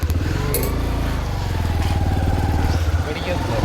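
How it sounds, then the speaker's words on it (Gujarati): A motorcycle ridden along a village road in Gujarat produces a steady, loud engine drone with a continuous throbbing rumble heard up close, as a voice speaks over it. "આપણે હવે બાઇકમાં બેસી ગયા છે નીકળી ગયા છે ઘર તરફ રવાના થઈ ગયા છે"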